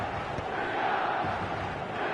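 Stadium crowd noise from the eFootball video game at Saitama Stadium: a steady, dense roar of spectators with a faint rising swell, continuous throughout with no speech.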